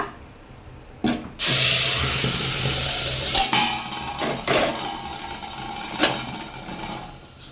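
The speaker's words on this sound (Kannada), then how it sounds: "ಕಾಯ್ದಿರೋ ಅಂಥ ಎಣ್ಣೆಗೆ ಮಸಾಲ ಹಾಕೋಣ" Masala paste hits hot oil for a country chicken sambar with a sudden loud sizzle that settles into a steady frying hiss. Occasional clinks and scrapes of stirring come through nearby.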